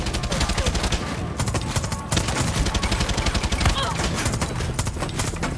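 Rapid automatic gunfire from a gun in the video game Far Cry 6, loud and close, firing in dense sustained bursts with only brief pauses, a steady clatter of shots throughout.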